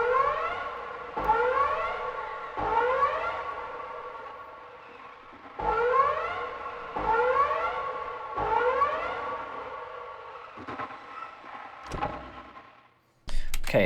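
Storm siren from the Pacific Drive video game in its milder yellow version, repeating rising wails every couple of seconds, alone and fairly loud, ending with sharp clicks and a sudden burst.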